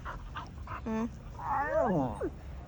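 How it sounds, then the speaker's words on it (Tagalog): Dogs give a few short yips, a whimper, and a longer wavering whine at close range, with a person's voice mixed in. "We have 3 dogs now here, guys."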